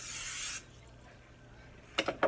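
Cooking oil is sprayed into a bundt cake pan in one short, hissing burst, followed by quiet and a few light clattering knocks.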